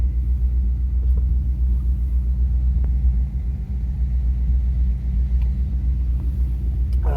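A heater blower fan runs inside a 1973 Dodge D100 truck, giving a steady, low, droning hum that holds even and unbroken throughout.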